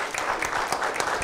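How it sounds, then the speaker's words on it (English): Engineers Day session audience applauding Team Fitbit, a steady wash of many hands clapping at moderate loudness, fairly even throughout the short burst. "let's have a big round of applause to Team Fitbit"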